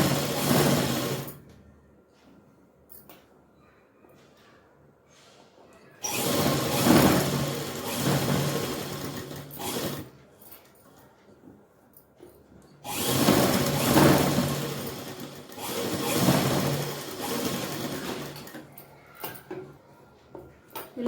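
A sewing machine stitches a piece of a traditional handmade purse in loud, close bursts of rapid whirring, three runs of several seconds each separated by quiet pauses, with no talking.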